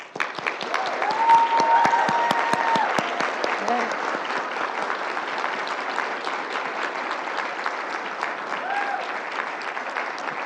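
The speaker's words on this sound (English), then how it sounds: "stand for a huge round of applause for the work that you do." An audience at a college State of the College address applauds steadily for about ten seconds, the clapping swelling early and then holding at a dense, even level.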